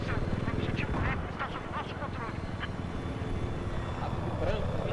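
Attack helicopter in Battlefield 4 gameplay, a steady loud rotor drone filling the whole stretch, with voices talking over it.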